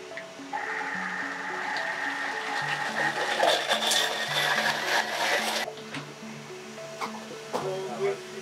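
In the restaurant kitchen of L'Esquisse, a blender whirs steadily through a cream sauce for several seconds, its motor droning under kitchen clatter and voices before cutting off.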